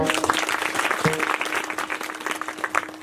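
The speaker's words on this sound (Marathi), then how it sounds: "एकदा जोरदार टाळ्या होत्या." A crowd at a kirtan claps loudly and steadily, a dense burst of applause filling the whole moment.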